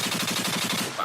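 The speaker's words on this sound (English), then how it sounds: "Gunshot." Rapid burst of gunfire played as a sound effect, a fast even string of sharp shots running through about a second, loud and alone with no talk over it.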